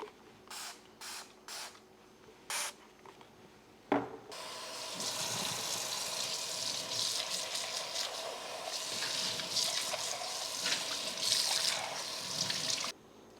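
Water spraying and running while a plant pot is rinsed out, a few short knocks and rubs first, then a steady hiss of water hitting the pot for several seconds before stopping abruptly.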